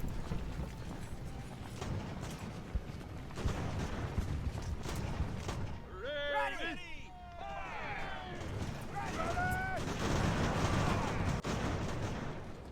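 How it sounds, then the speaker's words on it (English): Artillery booms and thuds in the game Ultimate Admiral: Age of Sail, mixed with galloping hooves and battle din, while someone talks over the action. "I like watching the artillery work."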